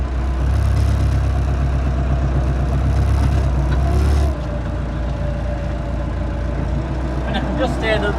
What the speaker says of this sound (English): I can just hear the hydraulic pump whining on this tractor as it lifts the bale